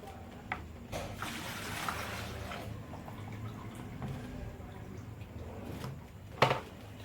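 Water drained off mango pieces while making mango pickle with whole dried coriander and mixed spices: a quiet, steady trickle and drip of water lasting several seconds, with a few clinks and thumps of a container near the end.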